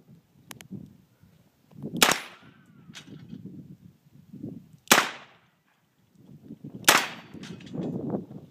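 A .357 Magnum revolver fired at an outdoor test shoot: three sharp, loud single gunshots spaced a couple of seconds apart, each with a brief echoing tail, with quiet talk and handling noise between them.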